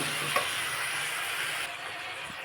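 Pumpkin greens and eggplant fried and stirred in a pan for a Bengali chachchari, a soft, steady sizzle with faint scraping, fairly quiet and close, dropping slightly toward the end.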